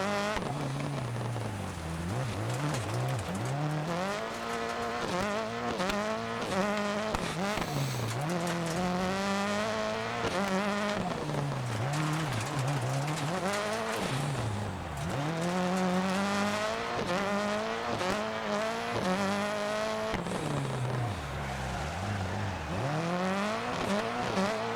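A 600HP Subaru rallycross race car in a racing game revs hard and climbs through gears again and again, its engine note sweeping up and dropping at each shift. Rain-like hiss runs throughout.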